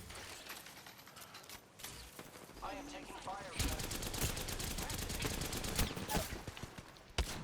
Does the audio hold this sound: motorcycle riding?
no